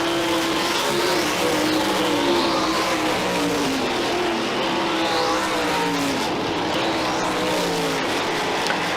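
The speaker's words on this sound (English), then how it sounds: "Jake Brown sets the 110 right up against the inside rail." Stock cars race around Merrittville Speedway, a loud continuous roar of engines rising and falling as cars pass close by, with no gaps.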